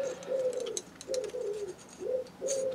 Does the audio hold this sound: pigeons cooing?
yes